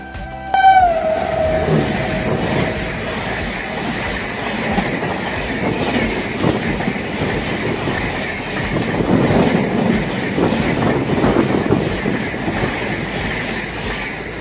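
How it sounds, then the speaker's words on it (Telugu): A superfast train rushes past at Sonipat Junction, a brief horn note at the start giving way to a steady, close roar of wheels and clattering carriages that swells and holds for the whole stretch. "ఆ ట్రైన్ నన్ను క్రాస్ చేసి వెళ్ళడానికి ఎగ్జాక్ట్లీ 15 seconds టైం పట్టింది"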